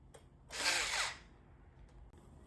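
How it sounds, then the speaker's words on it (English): A power drill runs in one loud, steady burst of about half a second, tightening screws into the frame of a slim metal side table during assembly, then quiet handling noises follow. "So we are now tightening the screws on both the sides of the frame."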